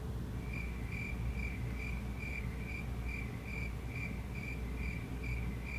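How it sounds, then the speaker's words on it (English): A cricket chirps in steady, evenly spaced pulses throughout, a continuous rhythmic insect trill over a dense hiss of background noise with no voices. "Is there a cricket sound?"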